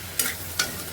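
Chopped onions and tomatoes sauté in a pan for a crab curry, a low steady sizzle cut by two quick spatula strokes, close and with no talking.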